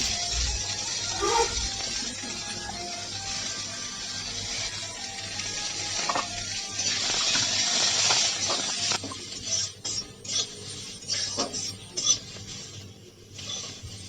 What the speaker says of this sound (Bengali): এরপরে বরবটিগুলো আমি ভেজে নেব